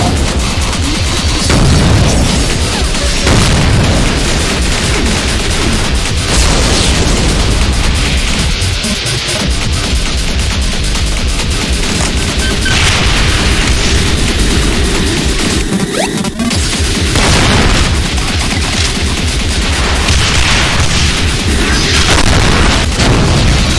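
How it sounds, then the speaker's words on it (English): Repeated booming explosion blasts from a Revenant variant monster's projectiles in a Doom mod, bouncing and lingering in a loud, continuous chaotic barrage with crashes and bursts throughout. "upon impact it emits bouncing, lasting explosion blasts."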